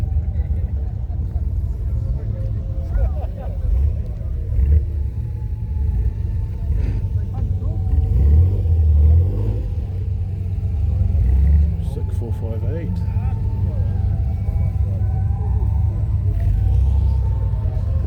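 Ferrari cars returning from the track at the George Begg Festival produce a continuous low engine rumble at moderate distance, swelling slightly midway, with people talking over it.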